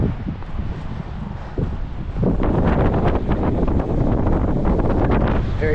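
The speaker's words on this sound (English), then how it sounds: "Very windy day today." Strong wind buffeting outdoors among abandoned buildings in a former Soviet spa city in Georgia, a loud roaring rush with gusts that grow heavier and more turbulent after the first couple of seconds; no speech.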